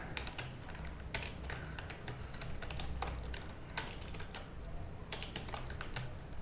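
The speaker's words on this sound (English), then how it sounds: "You can see you can start typing." Rapid clicking of keys on a computer keyboard, close by, in irregular bursts with brief pauses between runs of typing.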